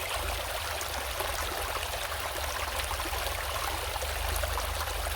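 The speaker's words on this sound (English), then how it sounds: "I just hear that noise of water." A steady, continuous rush of water flowing in an African river, loud and even throughout with broadband splashing and babbling, no voices or other sounds standing out.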